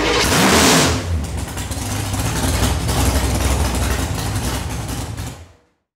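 A 1964 Ford Falcon with a 496 stroker engine rumbles loudly and steadily up close, revving briefly at the start before settling into a deep, continuous run and cutting off near the end.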